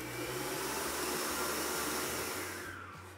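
Electric hand mixer whipping egg whites with sugar for a strawberry tiramisu, a steady loud motor whir with a slightly wavering low hum, running alone and tapering off at the end.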